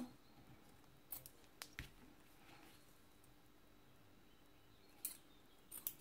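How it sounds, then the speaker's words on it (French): Scissors snip through a length of thin ribbon in a few quick, close, quiet cuts spread across otherwise near-silent room tone. "je coupe mon ruban en deux. Je le recoupe encore"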